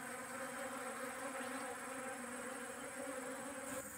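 Many Apis cerana bees, the local kerum honeybee, buzzing steadily around fresh honey, a continuous close drone with a faint background hum and no talking.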